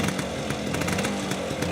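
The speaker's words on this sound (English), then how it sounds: "So no throttle, just kick it and it'll run off the choke." A kick-started scooter engine idling on choke with no throttle, heard as a loud, close, steady buzzing drone with a fast, even pulse throughout the short moment.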